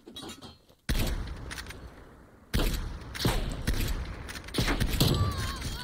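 Sniper rifle shots in a video game 1v1 match ring out as a handful of sharp, loud cracks, each with a short echoing tail, spaced irregularly over a few seconds.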